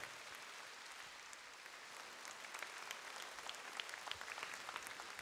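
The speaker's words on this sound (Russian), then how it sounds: "Ваши аплодисменты." Applause from a concert audience after a singer is introduced on stage forms a faint, distant, continuous patter that builds slightly over the few seconds.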